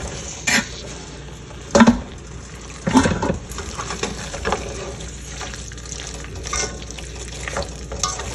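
Chicken keema with green chillies being stirred in a frying pan, a spoon scraping and knocking in a few distinct strokes over a soft steady sizzle.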